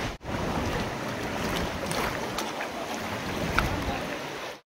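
Sea waves washing onto the shore at a beach in Da Nang, Vietnam, making a steady, loud broadband rush that continues without a break, with no talking.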